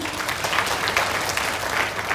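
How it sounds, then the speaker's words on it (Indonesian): An audience at a community health meeting in Malaka applauds, a dense, even burst of many hands clapping together close by. "Kita berikan tepuk tangan."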